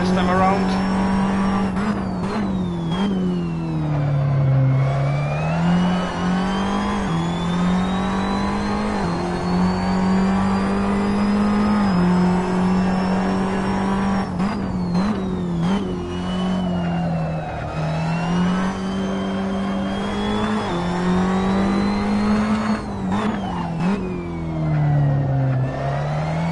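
A Ferrari 599XX EVO racing car in Assetto Corsa, its engine revving loud and continuous, pitch climbing and dropping through gear changes for the whole stretch, with brief tire squeal and a voice talking underneath.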